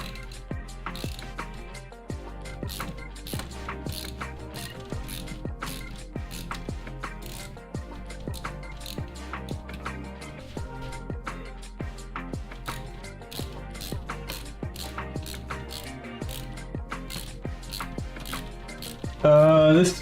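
A ratchet tightens a screw during assembly of a Formbot V0.2 3D printer. Its pawl clicks sharply and evenly in a long, steady run of close strokes, with faint murmuring at times.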